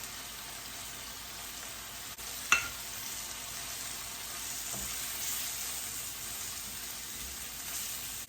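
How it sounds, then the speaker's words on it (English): Flour cooking in melted butter in a pan for chicken à la king gives a steady, soft sizzle throughout, with a single sharp utensil tap near the start and a fainter one midway. "now my flour, I'm going to cook the rawness out of the flour."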